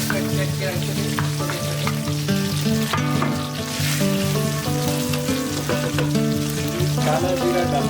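Sliced onions fry and sizzle in hot oil with cumin seeds, stirred steadily with a spoon against the pan, a loud continuous crackle close up with no talking.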